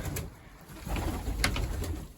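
Domestic pigeon cooing softly in a low, throaty murmur over a faint background hum, with a few brief higher bird calls breaking through near the middle.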